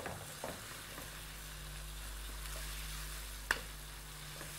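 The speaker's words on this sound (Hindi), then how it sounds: "स्टर फ्राइंग करते करते आपको हिलाते रहना ज़रूर है" Bite-size pieces stir-fried in a pan, a soft continuous sizzle with scattered scrapes and clinks of stirring and one sharper knock near the end, low hum underneath.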